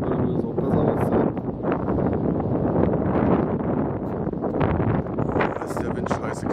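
Cold wind buffets the microphone outdoors, a constant loud rumbling roar with gusty rustle running through the whole stretch.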